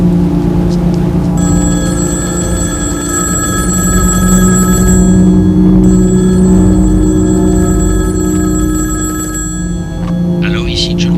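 A telephone rings repeatedly on an outgoing call, the steady ringback tone carrying alongside low rumbling background noise, with a voice speaking at the start of the clip.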